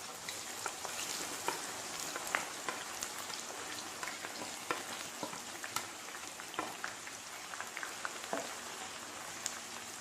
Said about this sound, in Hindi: तेल गरम हो चुका है, इसमें हम भिंडी डाल देते हैं। इसे डालने के बाद अच्छे से फ्राई कर लें।